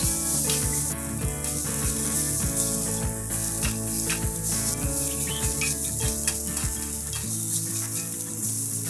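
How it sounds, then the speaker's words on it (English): Shallots sautéing after browned mushrooms in a pan, a loud continuous sizzle with a rhythmic series of spatula scrapes and stirring knocks, close by and without any talking. "Add the shallot and stir until lightly caramelized."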